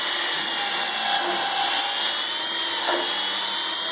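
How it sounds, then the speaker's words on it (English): A continuous high-pitched power drill whine runs steadily, grinding into a rubber leaf spring bushing at close range without pause. "we're going to drill a hole"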